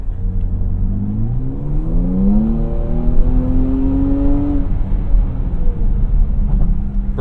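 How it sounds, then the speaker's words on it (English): A 2017 Jaguar F-Pace R Sport light aluminium SUV accelerates from inside the cabin, engine note climbing steadily in pitch through one long pull, then easing off; loud and continuous with no talking. "we'll get one last little bit of acceleration before we head home"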